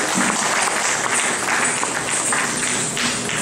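Loud, sustained applause from an audience for children performing at a Hindu temple festival in Toronto, a dense wash of clapping that keeps a steady level throughout.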